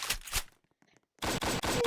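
Video game gunfire: two sharp bursts of shots, a short quiet gap, then a louder, rapid machine-gun stream of rhythmic rounds.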